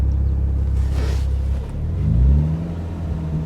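BMW E30 fitted with an N54 engine, heard close up with a smooth, steady low rumble and a brief rise in revs partway through, no talking.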